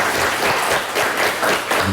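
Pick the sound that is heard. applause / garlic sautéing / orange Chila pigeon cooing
applause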